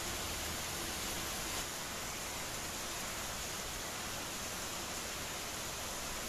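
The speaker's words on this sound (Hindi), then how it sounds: "ये देखिए बारिश हो रही है," Light rain falls steadily, heard from a balcony as a continuous even hiss of drops, dense and unbroken with no voices.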